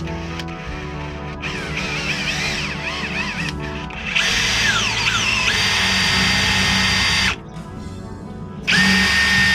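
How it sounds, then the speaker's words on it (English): Power drill boring a hole during an engine installation on a CaraCruiser camper build, a loud steady whine running in long bursts with brief pauses and changes in pitch as the bit bites. "You got to drill it there."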